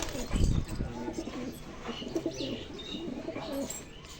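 Pigeons coo softly in low, rolling phrases that repeat through the moment, with a brief flutter or thump near the start, all fairly faint against a murky background.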